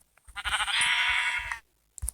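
A sheep bleats in a video game: one long, loud, wavering bleat that lasts over a second, with brief soft clicks just before it and just after it.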